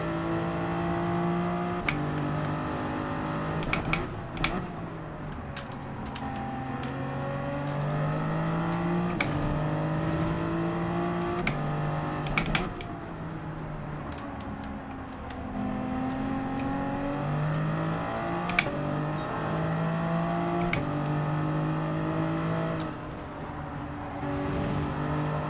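A Toyota Supra Group 3 race car engine in Gran Turismo 7 at Watkins Glen long course, droning steadily with repeated rising revs and sharp gear-shift breaks, loud and continuous throughout.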